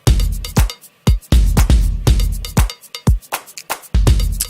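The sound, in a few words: drum and percussion groove of a K-pop track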